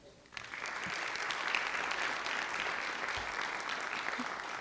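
An audience at a school district board meeting breaks into sustained, even applause for award winners, many hands clapping in a continuous wash heard from a distance.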